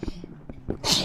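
A single person sneezes close up, with a short breathy intake and then a sharp burst at the end.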